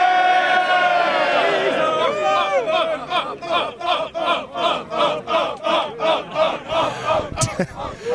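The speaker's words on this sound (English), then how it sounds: "So for Christian Cage winning, I say up, you want it, you make noise" A large wrestling event crowd roars and cheers, then settles into a loud rhythmic chant with regular rising swells, close and energetic.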